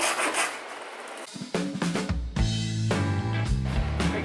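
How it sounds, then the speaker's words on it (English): 3D-printed plastic sword blade pieces are fitted onto a wooden dowel, with close, loud rubbing and scraping friction, then a series of squeaky grinding pulls as the parts are forced together. "now we're going to put the blade together"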